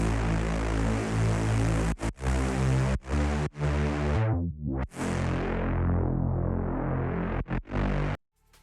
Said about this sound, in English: So I automated the filter and it sounds like this.